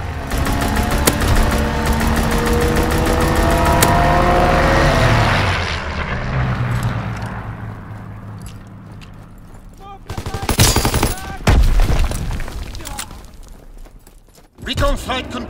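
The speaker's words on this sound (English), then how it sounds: "Fighter pilot ready for strafing run." A fighter aircraft makes a strafing run in Call of Duty WWII, its engine roaring close with heavy sustained machine-gun fire, then fading. Sharper gunfire bursts follow, and game announcer voices speak over the sounds.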